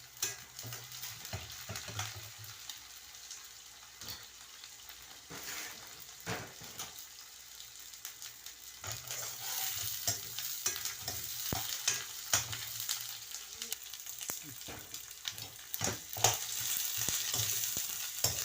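Steady sizzling of ginger garlic paste and lightly golden fried onions in a pan for mutton keema, with occasional stirring scrapes, no talking.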